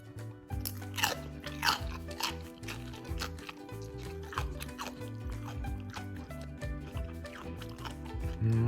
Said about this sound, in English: You can hear that crunch and that texture. It's just so crackly.